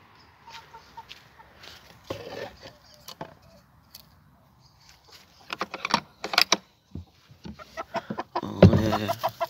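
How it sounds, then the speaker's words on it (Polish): A hen in a backyard coop clucks in scattered bursts, close by, mixed with rustling and clattering handling noises that grow louder toward the end. "Poczekamy, aż ta kura wejdzie."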